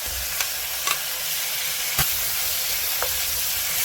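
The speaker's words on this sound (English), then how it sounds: "All right, add in our bok choy." Bok choy stir-fries in a hot pan, giving a steady close sizzle and hiss with a few sharp clinks of a utensil scraping the metal.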